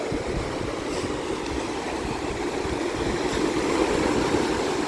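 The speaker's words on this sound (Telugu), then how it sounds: "అదిగో ఇప్పుడు వస్తుంది, పెద్ద అలా వస్తుంది." Continuous roaring wash of ocean waves breaking on a Visakhapatnam beach, swelling slightly louder toward the end.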